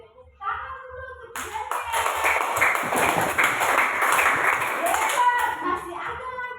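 A class of children clapping their hands together, a dense burst of steady applause that starts abruptly and carries on loud and close with a few young voices mixed in.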